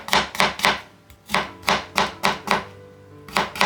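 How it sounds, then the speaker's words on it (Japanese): A knife chops ginger into thick strips on a cutting board, giving a steady series of close, crisp thuds in a fairly even rhythm with one short pause partway through. "針生姜のように細く切ってもいいですが、今回は食感を残したいので少し太めに切りました"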